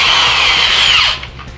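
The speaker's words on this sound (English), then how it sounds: "Power drill works fantastically." A power drill fitted with a drill bit whines loudly and steadily up close, then spins down with a falling pitch as the trigger is released.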